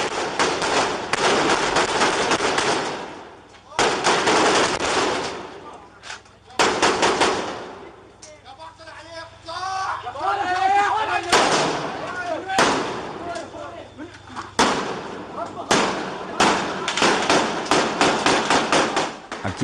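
Bursts of gunfire crackle in rapid volleys, coming in several loud clusters over about twenty seconds, with quieter gaps between the bursts. The shots are heard alone, with no voices over them.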